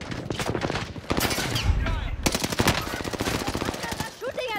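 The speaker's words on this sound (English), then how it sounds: "They're shooting at me." Rapid bursts of video game gunfire crackle in a tactical shooter match, automatic fire rattling in repeated volleys with distant and closer shots, while players talk over the shooting.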